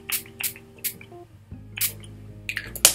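Several short, breathy bursts of facial setting spray with aloe and rose water puff out one after another at close range, with brief pauses between them and no talking.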